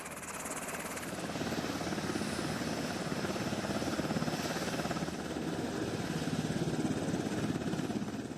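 Presidential VH-3D or VH-60N helicopter in flight, a steady loud rotor chop and turbine roar holding constant and close throughout with no voices.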